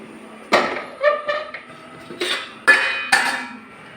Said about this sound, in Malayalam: അത് ഞാൻ റൈസ് കുക്കറിൽ നിന്ന് എടുക്കുകയാണ് കേട്ടോ.